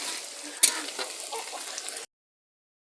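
Chicken pieces frying with turmeric in a pan as they are stirred make a soft sizzle with a sharp utensil clatter near the start, then stop abruptly into silence.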